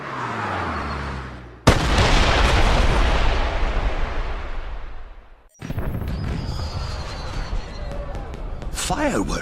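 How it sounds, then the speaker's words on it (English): Fireworks burst in a cutscene from the PS3 game 007 Bloodstone: a sudden loud crack opens a long roaring blast that fades out, then a second wave of sharp pops and crackles follows after a brief drop. "Did you know there were going to be fireworks?"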